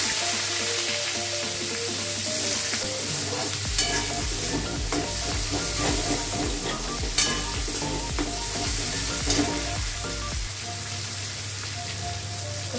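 Dried red chilli, panch phoron and onion fry in hot oil, giving a continuous crackling sizzle with occasional spatula scrapes and stirring clatter, fairly close and steady.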